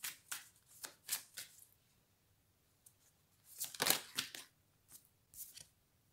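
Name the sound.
shuffling cards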